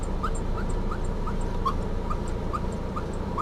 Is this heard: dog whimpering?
yes